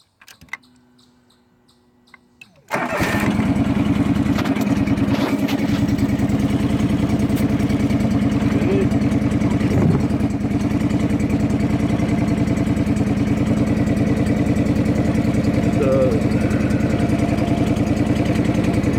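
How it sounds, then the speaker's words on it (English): A John Deere 445 garden tractor's engine cranks briefly and then catches, settling into a steady, loud, close-up running drone that continues evenly with no talking. "Okay, so I'm going to start her up now."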